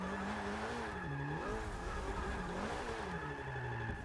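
Porsche 944 Turbo drifting in Forza Motorsport 6, its engine droning loud and continuous with pitch swooping up and down as the tires squeal through the slide, no talking.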